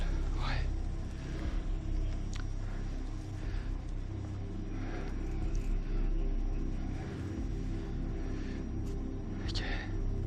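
A vehicle rumbles past at a distance, a steady low engine drone that swells and fades over several seconds, with people whispering close by.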